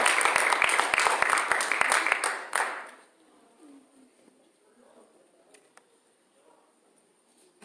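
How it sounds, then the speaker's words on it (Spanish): Church congregation clapping for the Lord during a Spanish-language sermon, a dense burst of applause lasting about three seconds before cutting off into a quiet hall with faint stirring. "Dale un fuerte aplauso al Señor."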